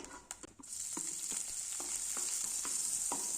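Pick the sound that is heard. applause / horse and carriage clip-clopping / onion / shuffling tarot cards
onion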